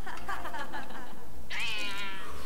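Cat Hermione from LEGO Harry Potter gives a clear rising meow near the end, following a few softer mewing sounds, close and alone without talking.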